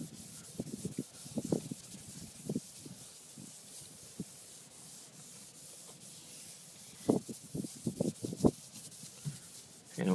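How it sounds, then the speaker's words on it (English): Rubbing and scrubbing a dirty boat surface with cleaner, giving close, uneven bursts of friction that come and go, loudest in a cluster near the end, with no talking. "You don't even have to rub that hard, just keep rubbing until the spot comes clean."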